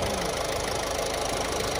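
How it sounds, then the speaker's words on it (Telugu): Ford car engine idling after a fuel additive treatment, a steady close mechanical drone with a faint ticking knock, even and continuous, with no talk over it. "ఎలా ఉంది ఇప్పుడు ఇంజన్ సౌండ్?"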